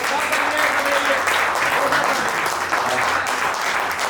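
Audience applause at a poetry open mic in a cafe, a dense steady wash of clapping that holds at an even level throughout, with a faint voice underneath.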